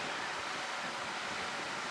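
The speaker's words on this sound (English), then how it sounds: "it's very windy right now" Steady, broadband wind rushing and roaring close to the microphone, with no pauses or other sounds.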